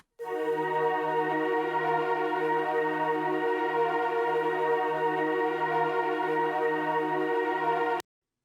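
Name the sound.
synth pads playing a long sustained note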